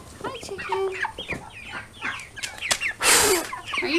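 Meat chickens in a coop, about seven weeks old, clucking and chirping steadily throughout at close range, with a brief louder rustle or flap near the end.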